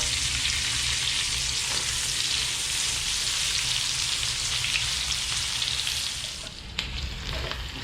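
Onions sizzle and fry steadily in a hot pan while pinakbet is being cooked, a dense continuous crackle that stays loud and even and thins out briefly near the end.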